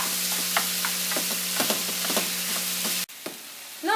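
Chicken frying in butter in a pan while being stirred, a steady close sizzle with spoon scrapes and taps throughout, then a sudden cut to a quieter sizzle near the end.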